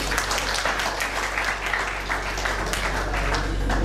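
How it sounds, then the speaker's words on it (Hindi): Audience at a journalism lecture in Varanasi claps steadily, a dense even wash of hands over a low hum, continuous throughout. "आप ताली बजा रहे हैं"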